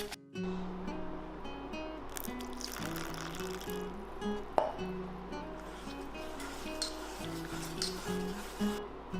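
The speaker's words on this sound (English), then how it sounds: "Add 14 centiliters of water little by little." Water is poured little by little into chickpea flour in a deep bowl, a soft trickling with occasional light clinks against the bowl over steady low background hum, fairly faint and close.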